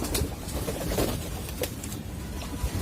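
Male pigeons bathing in water, cooing up close with flurries of wing flutter and light splashing, the birds busy throughout with no talking.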